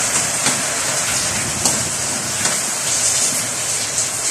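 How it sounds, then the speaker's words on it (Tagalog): Steady rain falling outdoors during a rainy day, a dense, even patter with a few soft thumps, heard near and alone without talking. "Umuulan."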